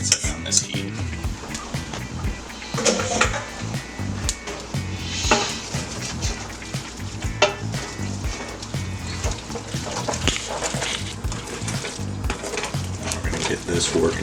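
Pad thai sauce with peanut butter sizzling in a hot pan, a steady dense fry hiss throughout with occasional clinks of a utensil, close and fairly loud.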